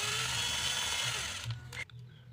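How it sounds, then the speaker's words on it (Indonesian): A power drill boring marked holes in a miniature truck door hinge for a gullwing-style door, a steady close whine running for about two seconds before slowing and stopping. "Kita lepas, jadi langsung kita bor yang kita tandai tadi ya."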